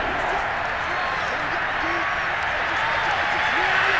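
A roaring Seahawks stadium crowd in a Madden 22 football simulation between the 49ers and Seattle fills the background with a constant wash of cheering and clapping, while announcers talk over it.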